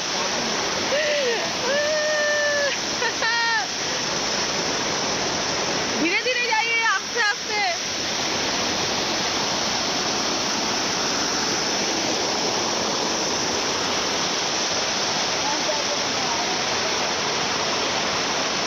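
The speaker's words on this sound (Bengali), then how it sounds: "আমি ঝর্ণার উপরে দাঁড়িয়ে আছি।" A waterfall in Debrigarh sanctuary near Sambalpur, heard from on top of the falls: a loud, steady, continuous roar of rushing water throughout, with people briefly talking over it.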